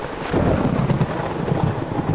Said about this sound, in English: she heard a clap of thunder.